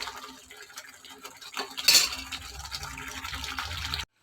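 Paneer butter masala curry being scooped into a serving bowl, with soft scraping and clinking of a spoon against the dish and a brief louder clatter partway through.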